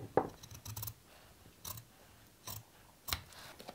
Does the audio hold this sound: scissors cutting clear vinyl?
yes